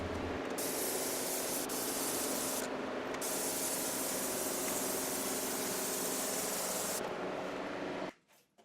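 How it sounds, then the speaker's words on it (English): A continuous hiss of spray paint from an aerosol can coating wooden shutters, steady and close with brief changes in tone, ending abruptly when the spraying stops. "I finished them off with several coats of spray paint"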